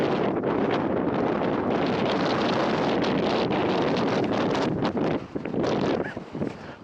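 Strong wind buffets the microphone on an exposed hilltop near Heron Pike while hiking up Raise in extreme weather, a loud, continuous roar with gusty surges that briefly ease near the end.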